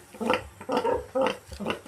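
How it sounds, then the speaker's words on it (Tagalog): A large sow grunts repeatedly nearby in its pen, four short, throaty snorts in a loose rhythm with brief quiet gaps between them. "Laki ng baboy, oh."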